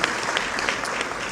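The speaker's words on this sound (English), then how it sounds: "Let's give them a round of applause for the great work that they do" Brief, dense applause from an audience at a community center breakfast event, a steady wash of many hands clapping at once, loud and close throughout.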